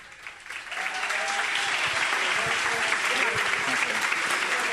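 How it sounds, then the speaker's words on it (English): A conference crowd at a Barcelona JavaScript meetup breaks into applause for a speaker, swelling within the first second and holding as a dense, steady clatter of clapping, with some murmuring voices mixed in. "A big round of applause for our second speaker."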